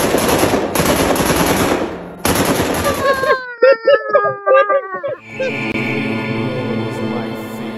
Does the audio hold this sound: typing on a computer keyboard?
no